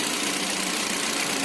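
A used car's engine idles steadily in a loud, continuous broadband hum with no gaps or talk over it, the running note holding even and dense throughout.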